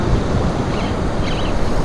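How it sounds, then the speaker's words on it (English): Ocean surf at a Galveston, Texas beach, a continuous broadband roar of breaking waves with wind buffeting the microphone, loud and close, no voices. "Wave. Whoa. Waves."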